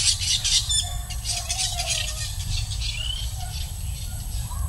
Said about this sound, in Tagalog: Masaya daw yung ibon mga boss na naglalaro.